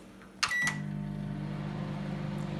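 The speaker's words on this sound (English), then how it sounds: "Next thing, you put it in the microwave for how many minutes? 30 seconds." A microwave oven hums steadily while heating homemade slime, a short beep-like tone and door or button clicks at the start, then a continuous low drone to the end.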